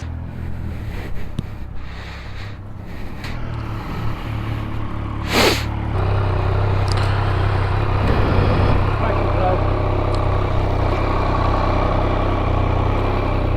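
A Triumph Speed Triple 1200 motorcycle on a test ride idles and then pulls away. The engine drone rises and steadies, with a sharp brief hiss partway through and people talking nearby.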